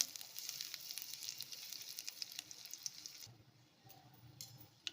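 Two dried red chilies and a pinch of asafoetida crackle and sizzle in hot oil, a steady close hiss with small pops that quiets slightly near the end.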